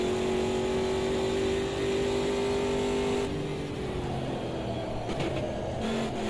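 An Automobilista 2 race car engine holds a loud, steady high-pitched drone, then shifts to a lower tone with a few clicks and gear changes partway through. Other cars sound faintly nearby.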